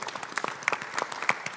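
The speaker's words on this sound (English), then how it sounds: "that's big round of applause for all of you" Scattered applause from a seated audience at a steel construction industry panel discussion, sparse individual claps rather than a dense roar, fairly faint and brief.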